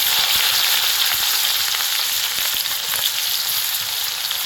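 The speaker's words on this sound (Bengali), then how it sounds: "এবারে তেলে সবচাইতে প্রথমে দিয়ে দিচ্ছি জিরা তারপরে একদম কুচি করে রাহা দিয়ে দিচ্ছি পেঁয়াজ" Cumin seeds and finely chopped onion fry in hot oil, giving a loud, steady sizzle with occasional crackles and soft stirring taps as part of a liver khasta biryani; no one speaks.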